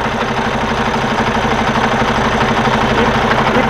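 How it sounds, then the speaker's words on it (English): A Cummins X15 diesel engine idles cold with heavy crankcase blow-by from damaged piston rings and cylinder liners, a loud, steady rumble with an even pulsing throb and no voices. "the engine is cold still, and we have a lot of blow by already"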